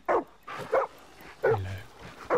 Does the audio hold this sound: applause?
no